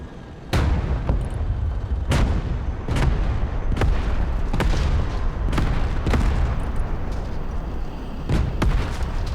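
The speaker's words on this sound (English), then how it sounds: "You should move closer to the targets to demonstrate the increased penetrating power of the kinetic ammunition" A tank fires kinetic ammunition at targets in Broken Arrow, heavy booming shots every second or so over a loud continuous rumble.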